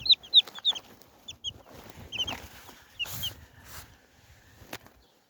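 Silver Wyandotte chickens cluck softly at close range, with short, scattered clucks and chirps over quiet rustling and no talking.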